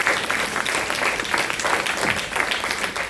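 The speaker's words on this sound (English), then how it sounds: "He deserves a double round of applause for the work he's doing." An audience at an event on combating antisemitism breaks into sustained applause, a dense, even wash of many hands clapping that carries loudly for a few seconds, with faint voices mixed in.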